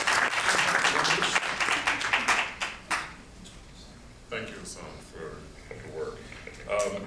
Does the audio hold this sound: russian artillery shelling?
no